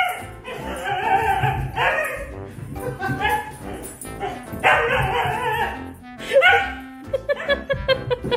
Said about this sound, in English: little dog decides to tease him a little bit.